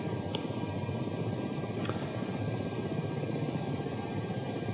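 A helicopter taxiing in a flight simulator game gives a steady, close rotor and turbine drone that holds an even level throughout, with no voices.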